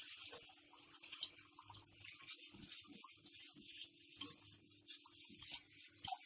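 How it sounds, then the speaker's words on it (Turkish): Milk poured slowly into a pan while making kadayif pudding, a soft continuous splashing trickle heard close and alone, with a faint low hum underneath. "Yavaş yavaş sütümü ekliyorum."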